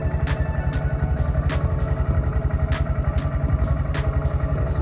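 A Honda Grom motorcycle engine idles close by, a steady rapid low thumping pulse with occasional light clicks over the top throughout.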